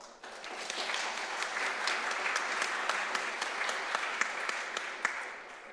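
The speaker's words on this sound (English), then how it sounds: "I want a big round of applause" Audience applause at the main stage of the ETHWarsaw 2022 blockchain conference, a steady dense wash of clapping from a sizable crowd that holds for several seconds, with a few sharper individual claps standing out.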